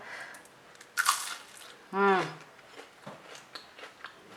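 A crisp bite into a deep-fried idli rava bonda, browned and crunchy, gives one sharp crackling crunch up close, followed by softer chewing sounds in a quiet room.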